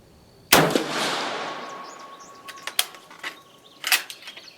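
A single loud, sharp shot from a Carcano 91/24 carbine, a cut-down rifle fired with cast rounds, booming close up and fading into a long echoing tail, followed by a few faint clicks and knocks of the action.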